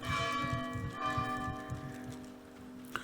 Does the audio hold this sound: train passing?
no